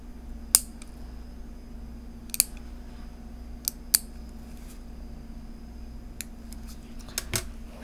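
A silicone realistic practice hand is trimmed with scissors, producing a handful of sharp, isolated snips spaced a second or more apart over a low steady hum.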